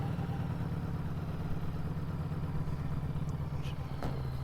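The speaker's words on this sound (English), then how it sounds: "I wish there was a way I could turn this idle down a little bit, but according to Harley, you can't." A Harley-Davidson Street 500 motorcycle engine idles steadily and close by, its even low-pitched throb continuing unbroken with no talking.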